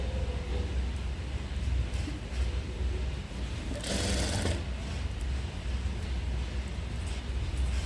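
A sewing machine stitches a blouse lining in a steady, continuous mechanical whir, with a brief brighter burst partway through and no speech.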